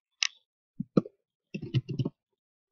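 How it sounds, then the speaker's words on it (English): Someone types on a computer keyboard: a short run of light, close key clicks in small irregular clusters, with brief pauses and silence between them. "I could type in calendar"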